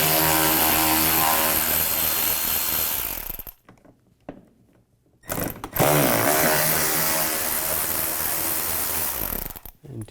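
Cordless power tool with a T20 socket driving out screws on a 2007-16 GMC Acadia during power steering cooler replacement, a loud steady whirring run that stops briefly, resumes, then cuts off near the end.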